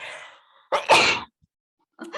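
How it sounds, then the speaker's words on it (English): One person sneezes once, with a short sharp intake and explosive burst, close and loud, followed by a brief faint voice afterward. "excuse me, I'm going to sneeze."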